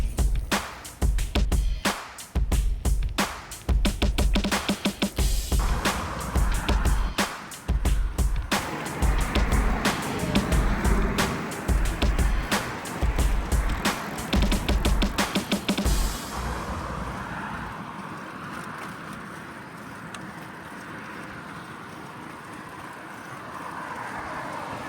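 A car ride heading out for food, with rhythmic road thumps and buffeting wind rumble for most of the stretch, then a smoother, quieter steady drone toward the end.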